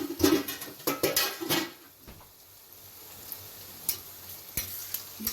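Fried Chinese rice with garlic, onion and green chilli sizzles in a pan, with bursts of loud frying and scraping stirs up close, then quieter crackling and occasional utensil clicks.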